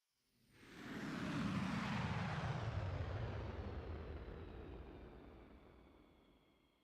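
A Growler military jet passes at an airshow with a broad, rushing roar that swells over about a second, holds loud, then slowly fades as it moves away, its pitch sliding downward as it recedes.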